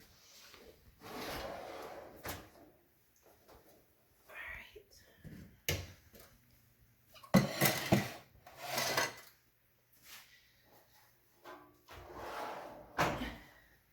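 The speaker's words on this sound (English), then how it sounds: "Now we're going to take the peppers out of the warming drawer." A warming drawer in a home kitchen is pulled open and peppers are lifted out, giving several scattered wooden-sounding slides, bumps and clatters at close range between quiet gaps.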